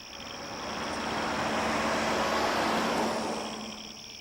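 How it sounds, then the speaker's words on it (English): A single car passes at night, a faint broadband rush that swells and then fades over a few seconds, with a steady insect-like whine holding in the background. "One night, a passing car gave me the clue. It was sound."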